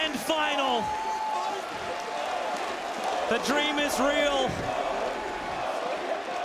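A crowd cheers at The International 2018 Dota grand-final-stage match between PSG.LGD and OG. A steady roar of the arena audience runs underneath an excited commentator who keeps talking throughout.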